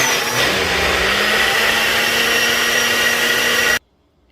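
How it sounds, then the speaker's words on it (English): A countertop blender whirs steadily while mixing healthy flourless waffle batter, one loud continuous motor drone with a slight pitch dip near the start, then cutting off abruptly at the end. "we're going to give it a good mix in the blender"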